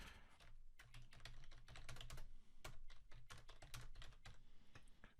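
Steady typing on a computer keyboard while working in mind-mapping software, dense irregular clicks of key presses running continuously at close range, no voices.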